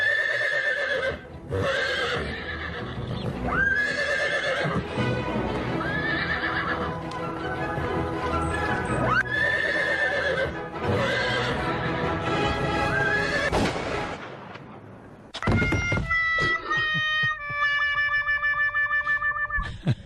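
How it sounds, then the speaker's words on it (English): A horse whinnies repeatedly over clip-clop hoofbeats, with a dramatic music score and processed effects, ending on a sustained tonal passage. "the whole time the horse was running in that clip, it was whinnying"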